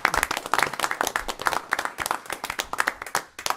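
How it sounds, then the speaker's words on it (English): Round of applause from the audience at a city council meeting, steady dense clapping sustained throughout, fairly loud and close with no talking. "you might just want to give Mary a round of applause"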